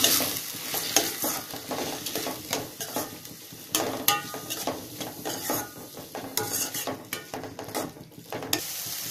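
Tomatoes sautéing in a pan for an Indian-style vegetarian macaroni dish, with a steady sizzle and frying hiss under repeated scraping, clinking stirs of a utensil against the metal pan, close and fairly loud throughout.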